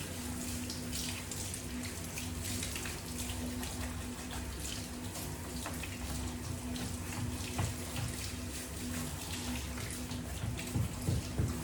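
Water rinsing a Gordon setter during a bath under low pressure, a continuous even spray and splash running down the coat, close and steady with no pauses.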